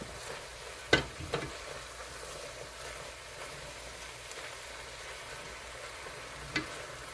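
Beef and spring onion frying in a pot for Korean beef stew, a quiet steady sizzle with a few sharp clacks of stirring near the start and end.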